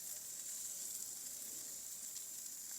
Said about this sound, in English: And the flame is because of the fat that's dripping off as it's frying.